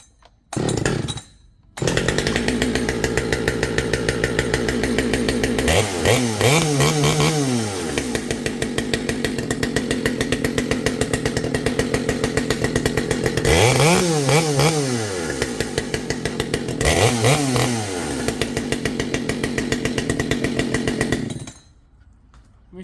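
A ported RIPSAW 572 XPG chainsaw with full-wrap heated handle starts on the second pull, then idles and revs loudly and steadily for about twenty seconds, with three rising-and-falling throttle blips before it cuts off.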